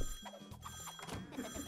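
Telephone ringing inside a prank-call video game, a bell-like ring sounding amid other game noise and brief voice-like sounds, moderately loud and close.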